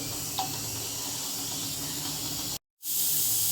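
Patwadi rassa curry coming to a boil in a pan, a soft steady hiss and bubbling simmer at close range with one faint tap, broken by a short silence before a brighter hiss returns.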